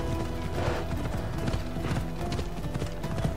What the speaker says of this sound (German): Ich reite mal schnell mit meinem Pferdchen hier.